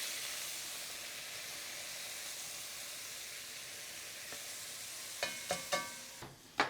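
Celery, bell peppers and onions sizzle steadily as they brown in a jambalaya pot, a broad even hiss that holds throughout, with a few sharp spoon knocks and scrapes against the pot near the end.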